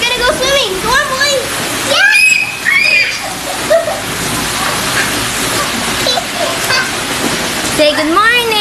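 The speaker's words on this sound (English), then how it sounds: "me and Travis are gonna go swimming" Water splashes and sloshes as boys swim, with children's voices and excited chatter over the steady wash of water throughout.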